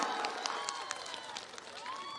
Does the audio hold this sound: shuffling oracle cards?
no